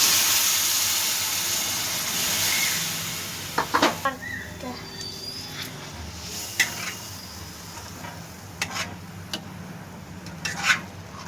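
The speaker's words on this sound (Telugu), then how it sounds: "చింతపండు రసం అయితే వేసుకుందాం." Tamarind juice poured into a simmering Andhra-style fish curry with onions, a loud initial hiss and sizzle that fades into soft bubbling with scattered stirring clinks and pan knocks.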